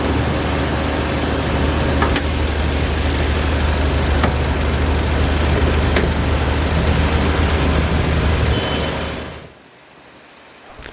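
A 2020 Toyota Raize 1-liter turbocharged 3-cylinder engine idling, a loud steady drone heard up close that stops abruptly near the end, leaving quiet.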